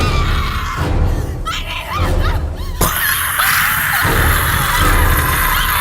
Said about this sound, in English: The girl is terrified and runs screaming through the cemetery